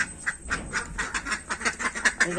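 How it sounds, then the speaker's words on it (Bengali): A group of ducks quack loudly and close by in a rapid run of repeated calls, one after another with barely a pause. "হাঁসগুলো এসছে হাঁসগুলো"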